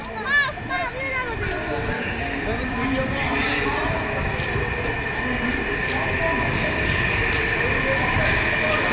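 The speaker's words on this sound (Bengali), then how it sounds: "কত নিচে দেখো মেট্রোটা" An underground metro train at Howrah metro station rumbles loudly and continuously nearby, its roar filling the space while people talk over it.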